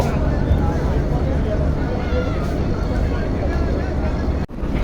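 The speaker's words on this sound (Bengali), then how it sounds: "ব্যাক গিয়ার দিয়ে দিল পারাবত বারো লঞ্চ" The Parabat 12 passenger launch, a river ferry on the Barisal to Dhaka route, rumbles loudly as its engine runs in reverse gear, a deep continuous drone with a slight drop near the end.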